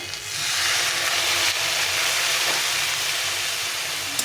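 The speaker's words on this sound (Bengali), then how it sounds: "এটা দিয়ে সামান্য জল দিয়ে নেড়ে দিয়ে" Mixed winter vegetables (flat beans, eggplant, radish, tomato, lentil dumplings) cooking in a pan with a little added water, giving a steady, loud broadband sizzle and steam hiss close up, with faint scraping from stirring.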